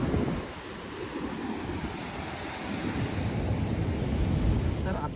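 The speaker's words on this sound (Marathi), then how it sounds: "या लाटांचा जो वेग आहे अतिशय तीव्र आहे" Rough, fast waves of a stormy sea surge against the temple steps at Ganpatipule, a continuous loud roar of surf mixed with wind buffeting the microphone.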